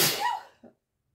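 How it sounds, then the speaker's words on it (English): A single person's sneeze, a loud burst of breath that fades over about half a second, followed by a short, quieter catch of breath, with no talking. "Oh my gosh, I'm gonna sneeze again."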